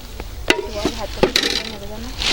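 Curry broth is poured into a cooking pot outdoors, with sharp clinks of a spoon against the pot and a soft liquid splash and sizzle, brief and close.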